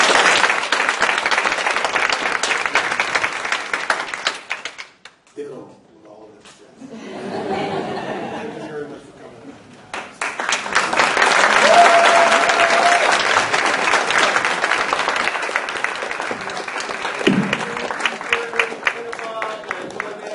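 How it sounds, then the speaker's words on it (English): An audience at a community panel discussion breaks into loud, sustained applause with chuckles and cheers. It fades to near quiet and some murmuring, then swells again into a second long round of clapping. "Big round of applause for our audience."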